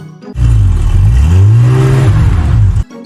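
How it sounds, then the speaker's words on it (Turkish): A jeep engine revs up and accelerates as it drives, its pitch rising and then settling, loud and close, before cutting off. "Jipler giderken böyle ses çıkartır."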